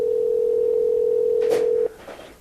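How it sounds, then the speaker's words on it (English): A telephone line signal plays while a studio calls a guest, a single steady electronic tone held for almost two seconds before cutting off, followed by a brief muffled sound. "Ringing Adam"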